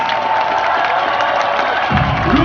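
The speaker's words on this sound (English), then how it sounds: "Applause, please." A large crowd at a cryptocurrency event in London claps and cheers loudly and continuously, with a surge of louder shouting near the end.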